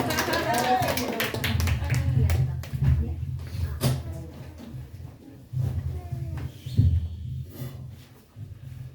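Church fellowship congregation clapping, a series of close, distinct claps in bursts with pauses, mixed with voices talking over and between them.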